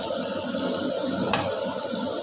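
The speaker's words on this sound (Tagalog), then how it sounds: "Maingay yung thermos." Water pouring steadily from an electric thermos pot, a continuous splashing hiss with a brief sharper spurt midway, close and moderately loud with no voices.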